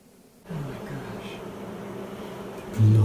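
Bees buzz steadily around a hive, a dense continuous drone close to the microphone that starts abruptly and swells louder at the end.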